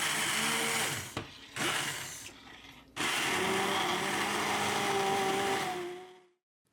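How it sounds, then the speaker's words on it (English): A small immersion blender churns red enchilada sauce in a pot, a loud close motor roar that cuts out twice and restarts, then grinds steadily with a rising whine before stopping abruptly. No one speaks. "with one of these little immersion blender boat motor things."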